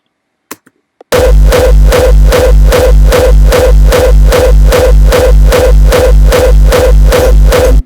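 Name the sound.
hardstyle rawstyle kick drum with compressed bass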